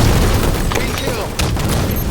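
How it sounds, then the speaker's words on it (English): Gunfire in the video game Halo 5, a dense barrage of booming shots and bursts layered over a constant roar of game noise, with a louder burst around the middle and talk mixed in beneath. "Shots fired on red 2."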